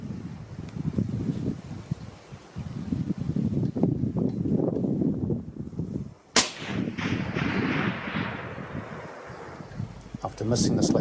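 A single sharp rifle shot cracks once partway through a red deer hunt in New Zealand, with strong wind buffeting the microphone before and after.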